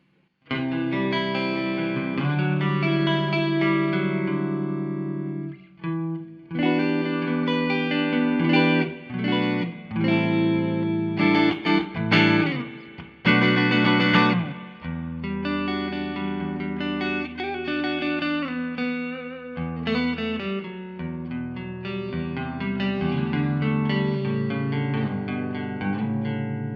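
An electric guitar rings out through a Laney LC50 tube valve amplifier, loud distorted chords and sustained notes with chorus and echo effects, a choppy burst of rapid strums in the middle before steady ringing chords resume.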